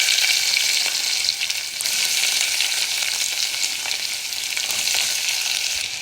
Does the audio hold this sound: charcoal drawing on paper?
no